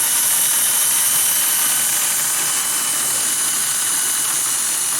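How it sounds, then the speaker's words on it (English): A small steam turbine spinning on boiler steam at about 35 psi gives a loud, steady high-pitched whine with a constant hissing rush, holding unchanged throughout with no voices. "I'm going to open this up and we'll get it spinning here"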